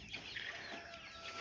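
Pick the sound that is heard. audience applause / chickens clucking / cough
chickens clucking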